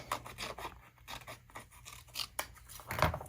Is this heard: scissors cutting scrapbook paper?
yes